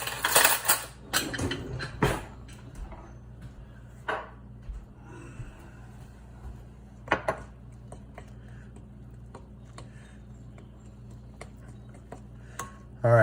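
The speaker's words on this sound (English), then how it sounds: "And then we're gonna mix that up real good." Sourdough starter mixed with fresh flour and water in a bowl, heard as irregular scraping clinks and knocks of a utensil against the container, with a few sharper taps and quiet stretches between, no talking.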